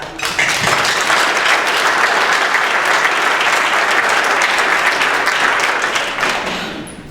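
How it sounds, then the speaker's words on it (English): A Rotary Club audience at a changing-of-the-guard gathering applauds its board members with sustained, loud, even clapping that fades slightly toward the end. "Let's give them a round of applause."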